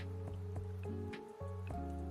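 Soft rain drips in a quiet ambient loop, with scattered light taps over a steady low hum, faint and without any voices.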